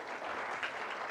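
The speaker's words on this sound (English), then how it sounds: "can we have a huge round of applause, please?" Audience applause at a corporate roadshow in Noida, a short, dense burst of steady clapping from a seated crowd.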